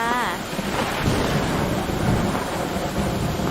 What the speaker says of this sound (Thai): ทำไมฝนมันตกแรงจังวะ